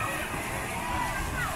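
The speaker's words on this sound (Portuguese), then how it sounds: "E aqui é uma cachoeira." Steady rushing water from a waterfall at a beach resort in Porto de Galinhas, a continuous broadband wash heard close and fairly loud beneath a person talking.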